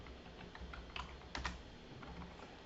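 Someone types the word polyethylene on a computer keyboard, producing soft, close key clicks in a short, uneven burst with a few louder taps near the middle.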